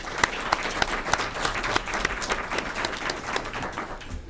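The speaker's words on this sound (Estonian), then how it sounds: "me võiksime neile ka ühe suure aplausi veel teha" Audience applause at a public transport talk, a dense steady patter of many hands clapping throughout, fairly close and even in loudness.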